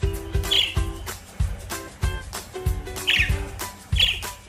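A pet budgie gives a few short, bright chirps at intervals over a rhythmic, bumping background of low thuds and clatter, close to the listener.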